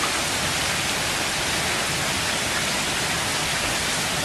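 Heavy rain falls outside a porch in a dense, unbroken hiss, steady and fairly loud with no individual drops standing out.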